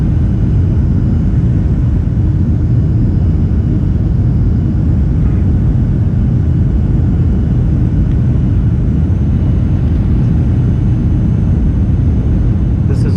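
Steady loud engine drone and rumble fill the cabin of a Surinam Airways airliner on Flight 421 from Paramaribo to Georgetown, banking right to head northwest, a continuous close hum without breaks and no voices.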